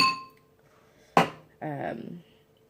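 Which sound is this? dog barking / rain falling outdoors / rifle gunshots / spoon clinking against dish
spoon clinking against dish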